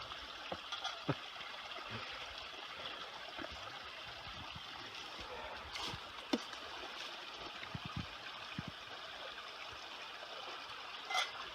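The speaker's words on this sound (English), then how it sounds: "Bubbling brook." A bubbling brook on a forest hiking trail at Cape Chignecto, steady and fairly quiet, with continuous trickling water and a few brief splashy bursts, no talking.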